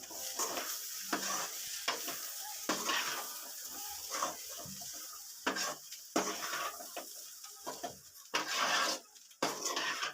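A spoon stirs rajma sundal (kidney bean stir-fry) with coriander leaves in a pan, producing close, repeated scraping and tossing strokes over a soft sizzle, in uneven bursts with short pauses between them.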